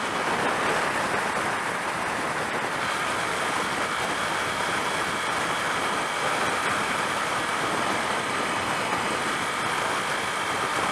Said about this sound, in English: At 50 miles an hour, this bike is cruising, it's fine.